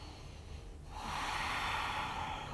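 A deep, breathy exhale through the nose during a one-legged downward dog yoga pose, close and soft, rising into a sustained airy rush.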